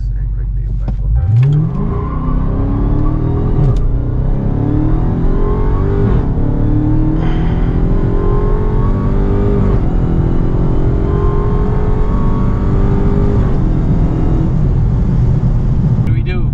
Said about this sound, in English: Let's do a quarter mile drag.